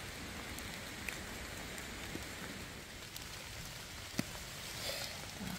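Steady rain patters continuously all around in a forest, a dense even hiss with occasional louder drops standing out. No voices.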